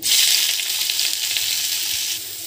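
Radish pieces with black cumin and dried red chilli frying in hot oil, a loud dense crackling sizzle that is continuous, close and slowly easing off, with no voices.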